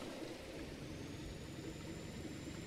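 A V8 truck engine in Euro Truck Simulator 2 idles as a faint, steady low drone with a soft whir, no voices on top.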